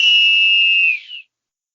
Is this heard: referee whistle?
yes